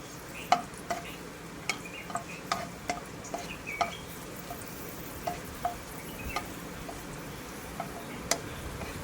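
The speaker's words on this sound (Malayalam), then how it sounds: "ഇനി ഈ നെയ്യിലേക്ക് നമുക്ക് റൈസിൻസും കൂടെ ആഡ് ചെയ്ത് അതും കൂടെ ഒന്ന് വറുത്ത് മാറ്റാം" Raisins frying in ghee in a pan while being stirred for caramel vermicelli payasam, faint steady sizzle with light scattered clicks and taps of the spoon against the pan.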